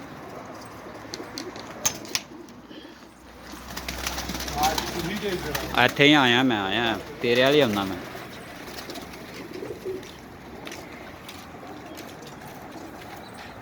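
Pigeons coo in low, rolling calls under a man's speech, with a steady outdoor background.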